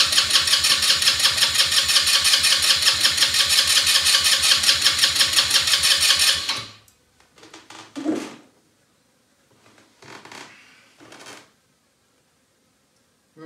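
A quad bike engine under repair for a fuel leak and possible spark fault cranks and catches, running loudly with a steady rapid pulse for several seconds before cutting out, followed by scattered clunks and quieter mechanical handling.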